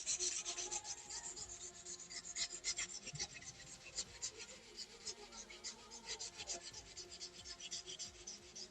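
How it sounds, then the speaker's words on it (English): Hand sanding on a lightsaber or wand part in a workshop, a quiet rhythmic rasp of back-and-forth strokes repeating steadily throughout, close and alone. "Switch over to regular sanding."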